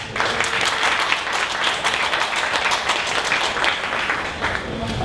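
An audience at a startup pitch event in Dallas gives a round of applause, a full, sustained burst of many people clapping at fairly close range that stays steady throughout.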